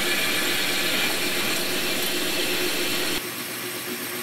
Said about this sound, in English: we drill through the tubing directly into the insert piece